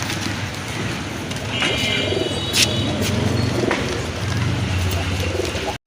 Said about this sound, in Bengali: এখানে দুইটা কবুতর দেখতে পাচ্ছেন